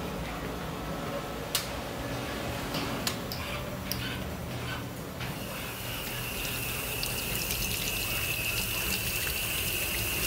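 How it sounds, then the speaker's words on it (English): Steady running water pours and splashes continuously, with a few sharp metallic clicks and clinks near the start, close by. "let's go rinse them in water"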